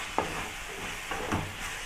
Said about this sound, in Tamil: வெங்காயம் தக்காளி நல்லா வதங்கிச்சு